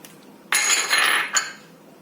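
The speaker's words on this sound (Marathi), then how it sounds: "आता त्यामध्ये आपल्याला सगळं मिक्स करून घ्यायचे।" A utensil scrapes and clinks through bhel puri ingredients in a bowl for a roughly one-second burst, close and bright, with a small knock near the end and quiet before and after.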